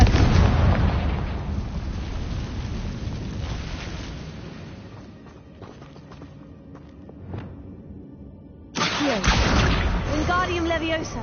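Confringo spell blast in a Harry Potter video game, a burst of explosive noise that fades into scattered crackles and thumps, then a second loud eruption near the end.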